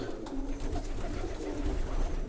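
Fancy show pigeons, including Polish Widin, Hamburg owl and blue-barred birds kept in an aviary, coo softly in low, rolling murmurs close by, with a continuous soft rustle and no talking.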